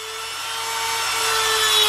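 A sheet of paper saws through a carrot, making a continuous rasping, hissing friction that grows steadily louder over a faint steady tone, with no talking.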